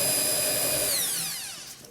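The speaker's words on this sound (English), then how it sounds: "Drill a hole." A power drill fitted with an 8mm bit bores into an aerated concrete block, giving a close, high steady whine that drops in pitch as the motor spins down and stops.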